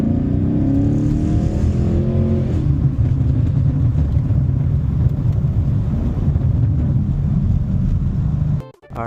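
A 2019 Chevrolet Camaro SS in track mode, heard from inside the car on an empty road, holds a loud, steady low V8 drone with rising engine tone, then cuts off abruptly near the end.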